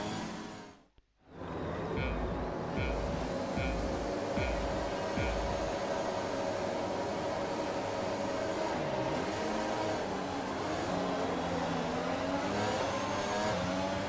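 F1 2020 race cars rolling on a formation lap at Bahrain, a steady high engine drone with shifting revs and a brief dip near the start, continuous and fairly close.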